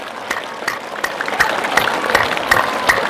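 A group of students at a Vidya Mandir school claps hands together in a firm, even rhythm, about three claps per second, sharp and fairly loud with no voices over it.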